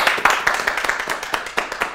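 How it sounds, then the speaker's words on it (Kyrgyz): An audience at a Bishkek comedy show claps in a quick, uneven patter of sharp hand claps, close and steady for a couple of seconds. "Сонун кол чабуулар."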